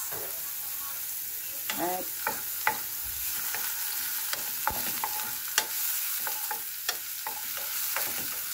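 White onions fry in a pan with a continuous bright sizzle, while a utensil stirs them with regular scraping and tapping strokes against the pan, close by and with no talk.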